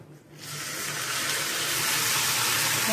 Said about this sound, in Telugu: వాటర్ వేయాలి.